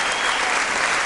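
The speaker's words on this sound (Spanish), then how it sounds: "que suene el aplauso para las 100 guitarras mercedinas" Loud, dense applause for the 100 guitarras mercedinas, cultural ambassadors of Villa Mercedes, San Luis, at an education congress in Argentina, a steady roar of clapping from a large crowd throughout.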